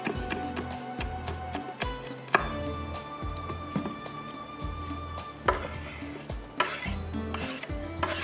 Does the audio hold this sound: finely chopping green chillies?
yes